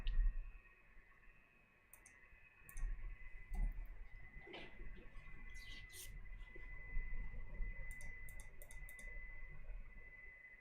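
Computer keyboard typing comes through as scattered light clicks and bursts of keystrokes, fairly faint and irregular, over a quiet background hum with no talking.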